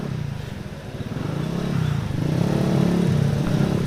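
A Kawasaki motorcycle with a side luggage case rumbles steadily and grows louder over a few seconds, as though it is drawing closer.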